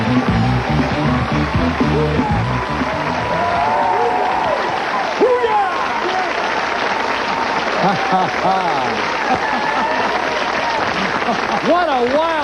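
A studio audience at a late-night comedy talk show claps and cheers loudly and continuously, with whoops rising above the dense applause and voices mixed in throughout.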